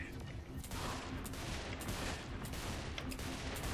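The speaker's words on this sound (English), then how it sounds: "I have a bunch of Zen people I'm shooting at." Dense, continuous rapid gunfire from shooting enemies in the video game Saints Row 4, a loud unbroken barrage of overlapping shots and blasts.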